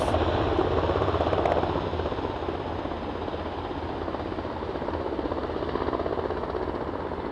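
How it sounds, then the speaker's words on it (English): A CHC Airbus H175 helicopter at Aberdeen, its continuous thudding rotor and turbine roar steady and fairly loud throughout, with no one speaking. "So I think this is a CHC Airbus 175."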